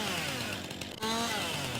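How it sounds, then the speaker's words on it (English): A cheap chainsaw in Farming Simulator 19 cuts away tree branches, its engine droning loud and steady, briefly dipping before revving back up at full strength, with no talking. "what I really like about this chainsaw, it's cheap and cheerful"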